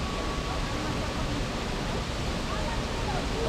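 The Salto de Cabrito waterfall cascades near Lagoa do Fogo in the Azores, making a steady, broad rushing roar that does not let up, fairly soft and distant.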